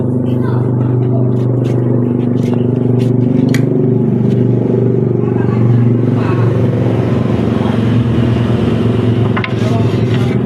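A motorcycle engine runs steadily at close range for the whole stretch, a continuous low idle-like drone with a few clattering knocks, while people talk over it.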